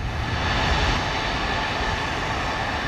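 Airliner taxiing in at Atlanta airport, a steady, continuous broadband jet engine rumble with a high whine, fairly loud and unchanging throughout, with no talk.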